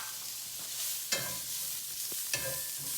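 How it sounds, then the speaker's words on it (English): Two thick-cut bacon strips render in a pan used for searing andouille sausage, producing a steady moderate sizzle broken by two sharp scraping knocks from a utensil. "So now I'm going to add 2 cuts of extra thick bacon into the pan that we just seared the andouille sausage in"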